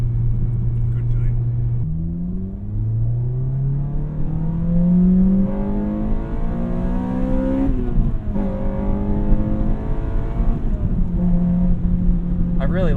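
A 2006 Acura RSX Type S engine and exhaust pull hard through rising revs, pitch climbing in steady sweeps with brief shift dips, loud and close throughout, with no talking over it.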